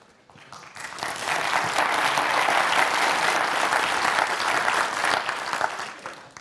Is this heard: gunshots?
no